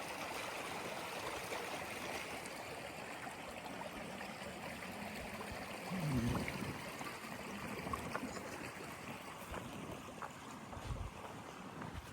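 Moxie Pond stream flows steadily, a continuous soft rush of water with a slight swell partway through, heard alone without voices.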